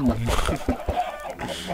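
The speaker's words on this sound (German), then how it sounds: "Ja, also Hühner sind wirklich ein sehr praktisches Zuchtvieh" Chickens cluck in a Minecraft game, a few short clucks close by mixed in with game noise and background sound.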